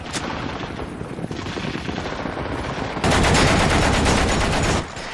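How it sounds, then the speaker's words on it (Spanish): Bursts of machine gun fire in a winter battle on the frozen Baltic, with steady rattling volleys throughout that swell into a louder, denser barrage partway through before cutting off near the end. "la policía política emplaza sus ametralladoras"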